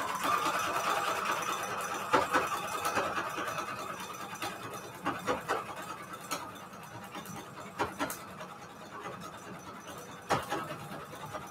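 A sewing machine stitches fabric covers for patchwork junk journals, running in a steady close mechanical whir with repeated clacking bursts as the stitching starts and stops.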